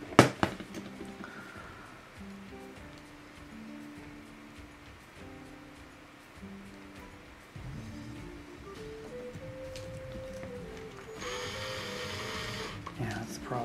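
A small hobby drill bores through a miniature figure while a light-up mini is being built. Its motor whines steadily, rising and falling in pitch, over a faint background hum, and ends with a brief harsher burst.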